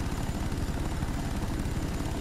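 A chopper gunner helicopter in Call of Duty Black Ops drones loudly and continuously with rhythmic rotor thumping and a busy mechanical roar filling the whole moment, no voices.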